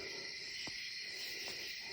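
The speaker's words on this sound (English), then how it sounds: "Don't hear nothing but frogs." Frogs calling at night in the woods at Salt Fork, a faint, steady high chorus with a couple of brief chirps standing out, heard from a distance with no talking.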